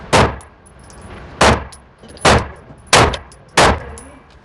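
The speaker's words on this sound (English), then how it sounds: "I'm going to be taking 5 shots" A Canik pistol fitted with a Legion compensator fires five sharp, loud shots at irregular intervals of about a second, each with a short ringing tail over faint outdoor background, with no talking.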